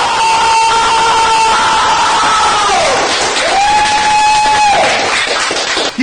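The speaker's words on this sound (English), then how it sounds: "Keep clapping, god damn it!" A crowd cheers and applauds for Vance on the fishtank.live show, a loud continuous roar with whoops and tonal cries rising over it.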